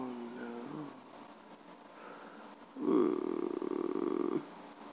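A kitten purrs close to the microphone, a soft rumble swelling into a louder steady purr for a second and a half before fading back to quiet.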